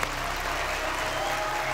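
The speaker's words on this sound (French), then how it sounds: "Je voudrais vraiment que vous fassiez un tonnerre d'applaudissements." A large crowd gathered outside a house claps loudly and continuously in a dense, even wash of applause.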